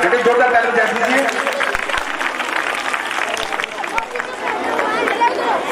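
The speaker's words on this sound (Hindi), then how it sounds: "जोरदार तालियों से स्वागत, जोरदार तालियां, बेटे जोरदार तालियां दे दीजिए।" At a Ramlila stage event in Azadpur, an audience applauds in a loud, continuous roar of clapping mixed with crowd chatter.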